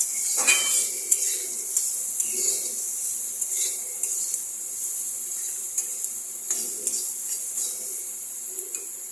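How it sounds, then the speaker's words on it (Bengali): Chopped onion with green chillies frying in a pan for capsicum-potato sabji, a soft hissing sizzle beneath repeated clinks and scrapes of a spatula against the pan. "পেঁয়াজটা দেখুন একদম লাল লাল করে ভাজা হয়ে গেছে।"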